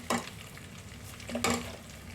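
Urad dal, chana dal, mustard seeds and cumin hit hot oil with two bursts of crackling sizzle a second apart. A softer, steady frying hiss runs between them, close and quiet.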